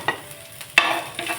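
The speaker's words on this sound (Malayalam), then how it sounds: "നമുക്ക് പച്ചമുളക് ചേർത്ത് കൊടുക്കാം." Green chillies hiss in hot oil alongside curry leaves and dried red chillies while a spoon stirs them in a pan, giving a loud close sizzle broken by a few sharp scraping strokes, with no talking.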